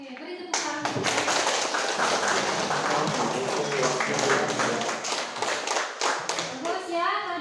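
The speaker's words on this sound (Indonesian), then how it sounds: "Oke, beri tepuk tangan." A school class claps in applause at the end of a chemistry lab presentation on reaction rates, with dense, steady hand clapping close by and children's voices mixed in throughout.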